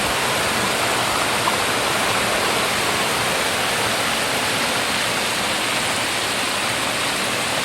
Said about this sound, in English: take the dangerous look over the waterfall